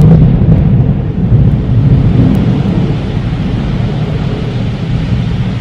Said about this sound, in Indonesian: di sini rumahku hujan gede banget